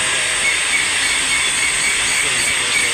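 A train runs at Tanuku railway station with a continuous loud hiss and rumble of rolling rail cars, steady and close for the whole stretch.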